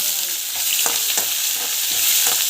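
Mustard seeds and cumin fry in hot oil, giving a loud, steady hissing sizzle with a few light stirring knocks through the short stretch, no talk.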